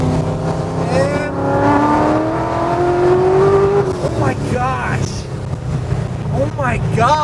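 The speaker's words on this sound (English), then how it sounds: "We're on the freeway doing 65. Mash it in 3rd and just, yeah!" A car accelerates hard in third gear on a freeway at about 65 mph, its engine note rising steadily with loud wind and road noise, while excited voices shout and talk over it.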